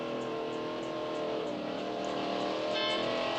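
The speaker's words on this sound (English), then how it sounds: "Car engines are so loud back in these days." An old car engine from the film The Graduate drones steadily at a constant loud level throughout, with a faint higher whine near the end and no voices.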